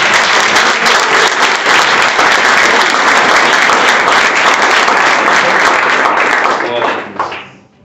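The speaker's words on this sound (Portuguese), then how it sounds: "Você pode receber o pastor Jean Marques com um aplauso." A church congregation at a Wednesday evening service applauds a pastor, with loud, dense, sustained clapping from the crowd that fades out near the end.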